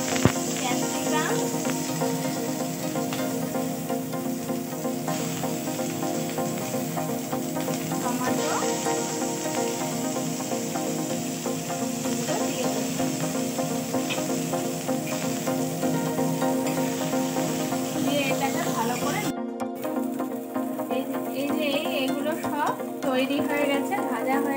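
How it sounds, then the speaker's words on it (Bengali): Capsicum sizzles in hot tempered oil in a pan, a continuous close frying crackle with stirring scrapes, briefly cut off near the end before resuming. "এবারে ফোড়নটা ভালো করে তেতে গেলে তখন এর মধ্যে একে একে ক্যাপসিকাম"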